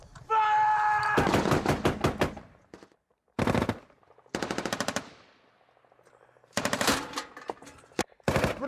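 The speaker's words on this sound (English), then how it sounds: "They opened fire with a rocket and since then have been throwing pretty much everything they've got at that target to try and pin them down." British forces in a firefight fire machine guns at a distant compound target, loud rapid bursts of automatic fire in several separate volleys with short pauses between them, plus a brief tonal whine near the start.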